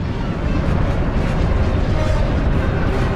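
Orbital bombardment explosions in the Sith Warrior video game, heard as a continuous heavy roar of overlapping booms and deep rumbling that holds steady and loud throughout.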